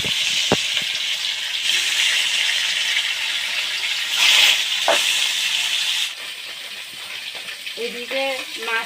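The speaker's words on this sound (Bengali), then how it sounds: "এবার কড়ার মধ্যে তেল দেবো কাতলার জন্য। মাছগুলো একেবারে হালকা করে ভেজে নেব।" Pieces of catla fish fry lightly in oil in a wok, giving a steady, fairly loud sizzling hiss throughout, with a few small clinks and a brief voice near the end.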